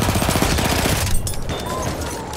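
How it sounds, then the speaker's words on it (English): Enemy machine gun fire in a Battlefield 1 battle: a rapid, loud burst of rattling shots up close that stops after about a second, followed by a noisy wash of battlefield din. "That's an enemy machine gun!"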